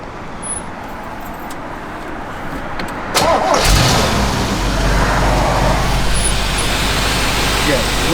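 A 1957 Chevrolet Corvette engine starts up about three seconds in and then settles into a steady, close, loud idle, with light background noise beforehand.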